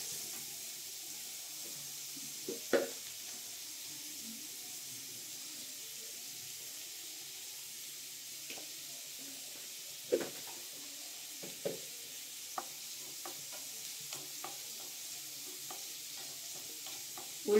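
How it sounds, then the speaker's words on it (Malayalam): Onions sautéing with salt in a pan for a green peas and egg masala, giving a steady, gentle sizzle with occasional scrapes and clicks of stirring, close and moderately quiet, with no voices. "ഉള്ളി ഇട്ടിട്ട് നന്നായിട്ടൊന്ന് വഴറ്റുക"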